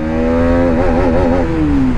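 Hero Karizma XMR 210 motorcycle engine revving up close, a loud throttle blip that rises and wavers before settling back down, with no talking.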